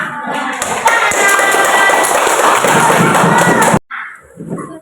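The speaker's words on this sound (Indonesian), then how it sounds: "Jadi kita kasih tepuk tangan" Schoolchildren in a classroom clapping for a group that answered a clock-reading task, loud dense applause lasting several seconds before cutting off abruptly into quieter room noise.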